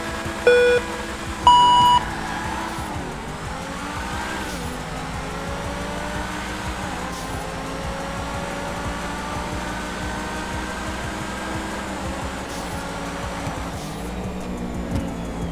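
Sports cars race in a GTA 5 video game, among them a Progen GP1 and a Truffade Adder with an 8-liter quad-turbo W16 engine. A steady engine drone with rising revs runs throughout, and two short electronic beeps sound near the start.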